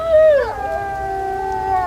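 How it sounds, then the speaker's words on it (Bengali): Jackals howl in a scary animated story, one long wavering, tonal cry that slides down and then holds steady, loud and close with no other sound. "শিয়াল দুটো এখনো ডাকছে"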